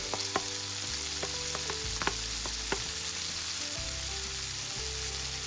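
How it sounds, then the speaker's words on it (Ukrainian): Minced meat and onion fry in a pan with a steady, close sizzle, broken by occasional light scrapes and taps from stirring. "Трішки обсмажую його та додаю цибулю."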